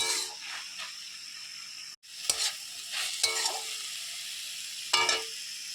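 Pumpkin greens with stalks, salt and turmeric frying in a pan as they are stirred: a constant hiss of sizzling broken by a few scraping strokes and a brief dropout, close and moderate, with no talk.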